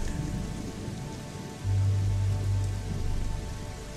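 Steady rain pours at night in a continuous wash, with heavier patter swelling partway through and no voices.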